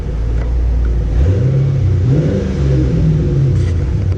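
A 2006 Ford Mustang GT's engine rumbles close by, its pitch rising as it revs up after the first second, then holding a steady, loud drone before easing slightly near the end.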